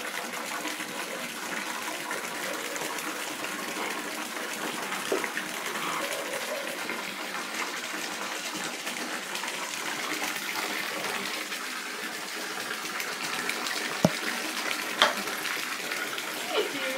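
Water runs steadily from a tap during face washing at a sink, a continuous splashing gush that stays even throughout with a couple of brief knocks near the end.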